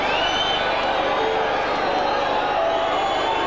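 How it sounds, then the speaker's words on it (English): A dense stadium crowd of Wrexham and Middlesbrough football fans roars continuously during a tense corner, a broad steady wash of cheering and shouting with no break. "What a crowd"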